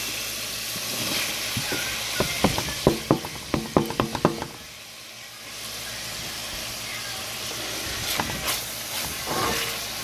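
Bacon frying on low heat in a skillet, a steady soft sizzle with a quick run of sharp pops and crackles in the middle, close by and moderately loud.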